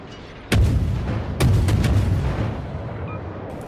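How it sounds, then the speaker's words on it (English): Two loud booming salvos ring out from the 130mm naval guns of the destroyer Gremyashchy in World of Warships, each a sharp close blast followed by rolling rumble and a few lighter follow-up cracks. "And I begin opening up on Charmaire with these 130mm guns on the Gremyashchy."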